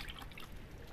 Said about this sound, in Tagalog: Palabas ng tubig yun.